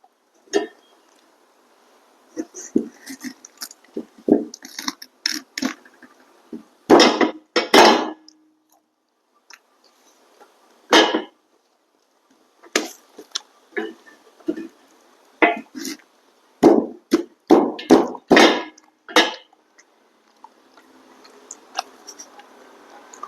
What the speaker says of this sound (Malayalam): ഈ ചക്ക കട്ട് ചെയ്യാൻ പറ്റി ഈസി ആയിട്ടുള്ള കാര്യം ഒന്നും കൂടി കാണിച്ചു തരാം